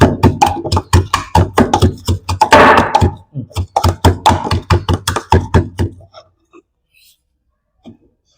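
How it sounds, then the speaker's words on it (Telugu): Small onions pounded by hand at home: a rapid, steady run of dull thuds for about six seconds with a brief voice partway through, then a few scattered knocks before quiet. "కొన్ని చిన్నుపాయలని దంచుకుందాం."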